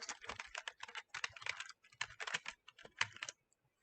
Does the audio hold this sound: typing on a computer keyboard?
yes